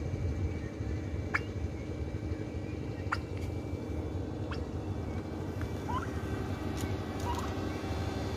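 Several short turkey gobbles on a farm in the Philippines ring out at intervals over a steady, dense bed of low rumbling noise, the calls moderately distant.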